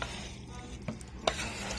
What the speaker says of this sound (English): we're going to mix that all together